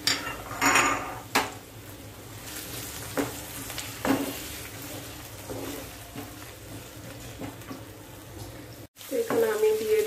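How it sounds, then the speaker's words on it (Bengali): Mushrooms with ginger and garlic fry in a pan, with a quiet steady sizzle broken by several close scrapes and clinks of a utensil stirring against the pan. "এগুলোকে আমি ভালো করে ভাজা করে নেব, কষিয়ে নেব আর কি।"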